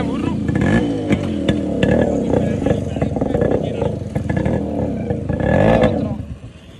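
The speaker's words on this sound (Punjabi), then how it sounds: "ਚੱਲ ਸਟਾਰਟ ਕਰ ਅੱਧੀ ਕਿੱਕ ਤੇ ਕਲੱਚ ਦੱਬ ਕੇ ਗੇਅਰ 'ਚ" A Yamaha RX100 two-stroke motorcycle idles and revs with throaty bursts, close and loud, while people talk over it.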